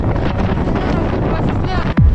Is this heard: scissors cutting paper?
no